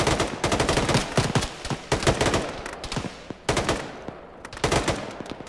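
Bursts of machine-gun fire from a vehicle-mounted gun in a military video game, loud and rapid, coming in several clusters of sharp shots with brief gaps between them.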